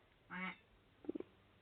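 A voice imitates a duck, giving one drawn-out nasal quack followed by three short, quick quacks, close and clear against a quiet room.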